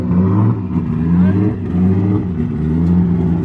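A brand new Toyota 1JZ engine revs on a dyno during its first start and tune, a loud, close, steady mid-pitched drone with rising and falling throttle pulses over roughly three and a half seconds.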